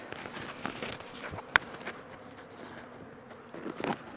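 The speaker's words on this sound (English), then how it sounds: "bees are robbing out the honey that's left over on the hives" Honey bees robbing leftover honey from dead-out hives, a faint continuous buzzing swarm outdoors with scattered brief rustles and one sharp click.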